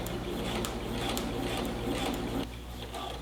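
A sewing machine back stitches along a twill tape waistband, a quiet, fast, steady mechanical whirr of stitching heard alone and close, easing slightly near the end.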